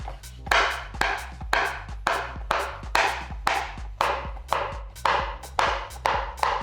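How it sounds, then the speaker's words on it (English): Kitchen knife chopping chocolate into small pieces on a cutting board, a steady series of crisp knocks about two per second, each followed by a short crunchy scrape, close and moderately loud with no talking. "we're chopping the chocolate"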